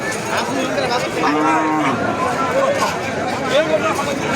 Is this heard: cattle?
yes